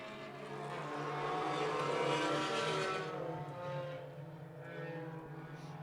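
Roadrunner-class race cars, a field of ten in a heat, lapping a track: a rising and falling broadband engine roar that swells as the pack passes and then fades, heard from a distance without talk.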